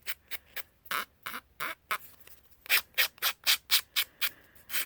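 Rhythmic scratchy strokes of a sanding block rubbing the edges of playing cards, about a dozen back-and-forth passes, close and getting louder and faster toward the end.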